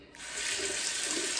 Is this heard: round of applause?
no